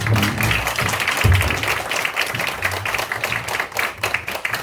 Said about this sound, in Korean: 참석해주신 우리 여의사회 회원님과 기자 여러분, 그리고 무엇보다도 열심히 열정적으로 토론에 참석해주신 5분의 회원님께 감사의 인사 박수드립니다